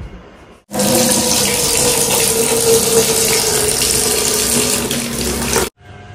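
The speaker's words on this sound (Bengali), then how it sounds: "তুই কেন এমনি করিস, কেন বন্ধ করিস না কলটা?" A water tap gushes loudly and steadily for about five seconds, opening abruptly after a quiet start and shutting off just as sharply near the end.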